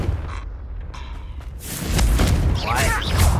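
A Confringo fire spell blast in Hogwarts Legacy, a loud booming explosion with crackling debris that swells halfway through and lingers, preceded by quieter spell effects.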